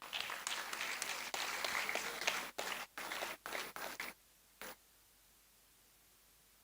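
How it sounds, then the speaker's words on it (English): An audience gives a round of applause at a ceremony honouring a quality management consultant, steady clapping for about four seconds that breaks into short bursts and then dies away to near silence. "Can we extend a round of applause?"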